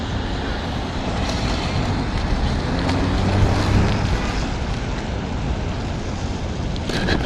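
Steady wind roar buffets the rider on a motorcycle during a freezing cold afternoon ride through rain and snow, a constant loud rush filling the whole stretch with no breaks.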